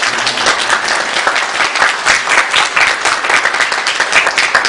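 Congregation in a church sanctuary applauding its youth group and middle and high school students, a dense, steady wash of many hands clapping together, loud and sustained throughout.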